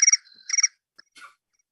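Crickets chirp in bright, pulsed trills. There are two clear bursts, then a brief faint chirp and a softer rasp, each separated by silence. The sound is fairly loud and close, with no voices.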